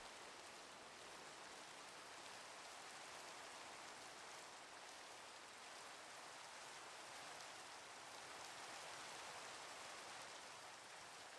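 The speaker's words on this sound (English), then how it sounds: "Rain." Steady rain in Minecraft, a dense, even hiss of falling drops that holds without a break from start to finish, with no voices.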